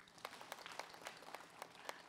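A studio audience at an Indonesian Islamic television program claps at a quick, even pace, the sharp claps sounding faint and somewhat distant for about two seconds.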